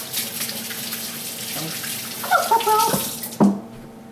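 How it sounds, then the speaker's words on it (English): Hands washed with soap under a running kitchen tap while making brownies from scratch: a steady close water stream with rubbing and splashing, and a couple of brief louder splashes near the end. "Now, wash hands. Soap."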